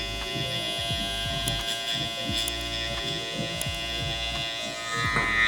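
Electric hair trimmer buzzing steadily and close during a low taper fade haircut, with a constant hum broken by small shifts in pitch as the blade moves through hair.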